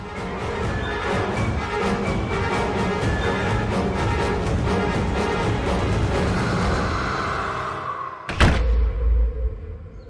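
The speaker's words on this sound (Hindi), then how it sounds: "आहाना, दरवाजा बंद कर देना।" A low background hum, then a single solid door thud near the end as it shuts.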